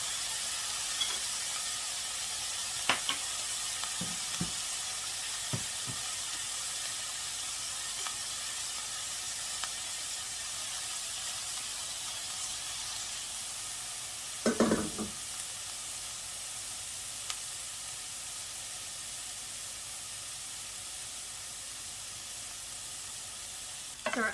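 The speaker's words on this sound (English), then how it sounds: "we're just going to saute these onions just for a bit before we add our garlic." Onions sauté in a pan over medium heat, giving a soft, steady sizzle with a few scattered utensil clicks and one brief louder stir midway.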